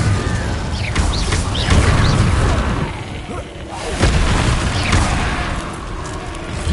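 A fire spell being cast in Hogwarts Legacy, sounding as loud bursts and crackling whooshes with booming low rumbles that swell and fade several times over a busy game soundscape.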